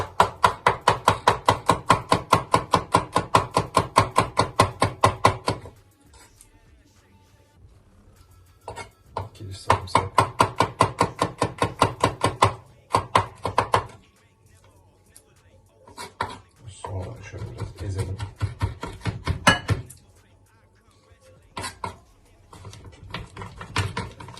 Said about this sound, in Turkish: kavuracağımız sarımsakları doğrayalım